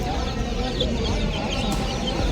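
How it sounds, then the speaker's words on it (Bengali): Silkie chickens clucking in a busy, noisy pet bird market, with steady low background rumble throughout and no clear pauses. "এই দেখো সিল্কি মুরগি"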